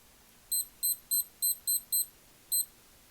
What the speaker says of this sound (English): The fake beep sounds more like a hospital buzzer